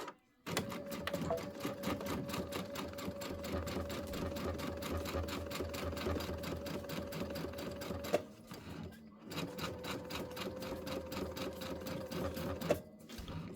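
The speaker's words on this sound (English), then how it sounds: "I'm going to go ahead and sew it" A sewing machine stitches the center seam of a quilt in a steady, fast mechanical whir that runs without a break, pauses briefly near the middle and then resumes close and clear, with no talking.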